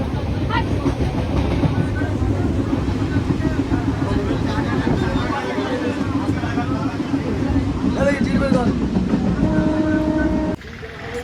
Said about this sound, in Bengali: দেখতে পাচ্ছি ট্রেন আসছে